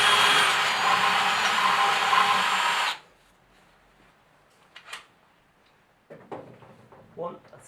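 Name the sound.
power drill drilling holes in cylinder head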